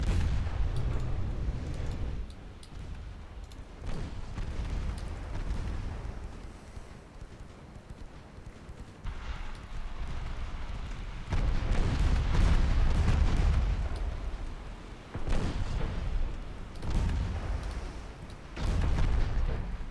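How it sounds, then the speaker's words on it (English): Naval gunfire from the US warship America's 3-inch guns in a WWII naval video game, heavy low booms repeating at irregular intervals with rumbling bursts, loud and close amid steady background noise. "America firing away with her 3 inches."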